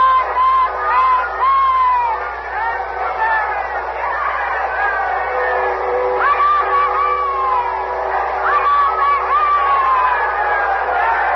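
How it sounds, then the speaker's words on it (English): A large crowd gathered outside the gates of Windsor Castle shouts and cheers in a continuous, somewhat distant roar, with rising whoops and calls swelling over the general hubbub. "We'll open our microphones outside now and let you hear the crowd"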